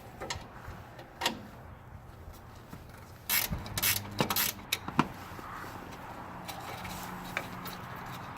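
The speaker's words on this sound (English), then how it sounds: "So we're going to go ahead and remove that with a box end wrench." Metal clicks and ratcheting taps from a box end wrench working loose a hard-to-reach bolt on a 1988 Buick Electra Park Avenue, close and fairly quiet, with a burst of sharper clanks midway.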